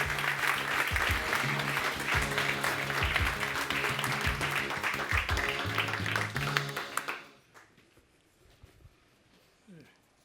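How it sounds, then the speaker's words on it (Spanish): An audience applauds a speaker at a book presentation in Madrid, dense sustained clapping for about seven seconds that stops abruptly, leaving quiet room tone with faint sounds. "os pido un fuerte aplauso para Javier Fernández Aguado"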